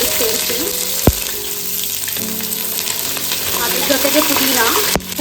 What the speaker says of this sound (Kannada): ಈರುಳ್ಳಿ ಮತ್ತು ಸ್ಪೈಸಸ್ ಎಲ್ಲ ನೀಟಾಗಿ ಫ್ರೈ ಆಗಿದೆ